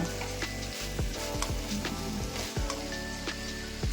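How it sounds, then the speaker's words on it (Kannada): Ivy gourd and chickpeas being stirred in a hot pan, a steady close sizzle broken by repeated scraping strokes of the spoon. "ಒಂದ್ಸರಿ ಚೆನ್ನಾಗಿ ಮಿಕ್ಸ್ ಮಾಡ್ಕೊಳ್ಳೋಣ"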